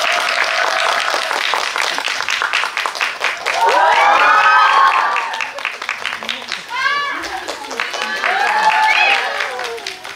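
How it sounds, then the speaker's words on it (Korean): Audience at a film festival awards event applauds and cheers to welcome an actress, with dense clapping and excited voices and shrieks rising in waves over the steady ovation. "큰 박수 부탁드립니다."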